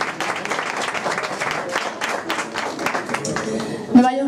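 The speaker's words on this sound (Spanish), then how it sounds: "Un fuerte aplauso, por favor" Concert audience gives loud, sustained applause and clapping for a singer, a dense wash of hands filling the whole stretch before a short vocal note rises near the end.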